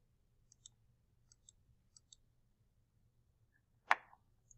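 Keys pressed on a scientific calculator in a quiet room: several faint, light clicks in small pairs and clusters, followed by one louder, sharper tap near the end.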